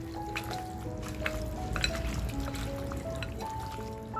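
Oil sizzling and crackling steadily in a hot pan while a mutton dal is cooked, a continuous fry with faint dribbling pours and stirring over a low background hum.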